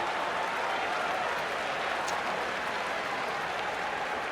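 Steady, dense applause from a cricket crowd at an England v India Test match, a continuous wash of clapping with no breaks, heard at a distance and filling the whole stretch without any voices.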